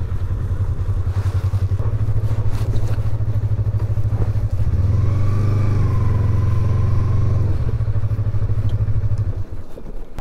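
A motorcycle engine runs close and loud on a Ladakh road trip near Umling La, holding a steady throbbing idle that swells briefly in the middle before the rumble cuts off near the end.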